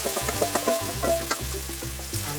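Egg and courgette mixture for an omelette or tortilla poured into hot oil, sizzling and crackling steadily close up with bursts of spitting, no voices.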